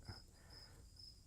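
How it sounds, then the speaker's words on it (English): Crickets chirp faintly in the background, a repeated high pulsing trill that continues through the quiet with no one speaking. "I like the crickets."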